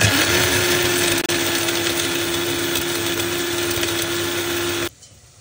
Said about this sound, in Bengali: এটা আগে গ্রাইন্ড করে নিচ্ছি।